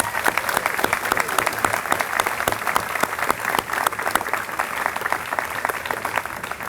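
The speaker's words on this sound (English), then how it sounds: "Can we give them a big round of applause?" An auditorium crowd at a school commencement ceremony gives a big round of applause, dense continuous clapping with sharp individual claps standing out, loud and sustained with no speech.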